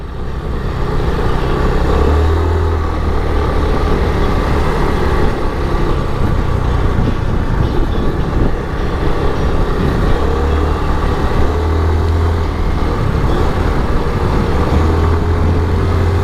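Vehicles hum past on a mountain road near Doi Suthep, Chiang Mai, with a loud, steady engine drone and a low rumble that swells and fades as the traffic meets. No one speaks.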